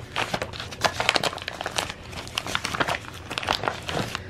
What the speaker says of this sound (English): We have a whole bunch of packages to open today.